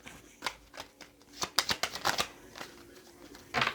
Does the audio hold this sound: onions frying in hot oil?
no